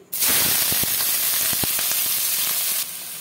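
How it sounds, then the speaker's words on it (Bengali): Chopped onions drop into hot oil in a heated wok and burst into a loud, close, continuous sizzle with a few sharp crackles. "তেল গরম হয়ে গেছে, দিয়ে দিচ্ছি পেঁয়াজ কুচি।"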